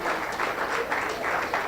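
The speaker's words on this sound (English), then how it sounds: "Let's clap hands for Jose, everybody, as he comes through." An audience at a UN tourism forum on gastronomy in Africa claps for a speaker, a steady wash of hand claps rising and falling in soft waves across the room.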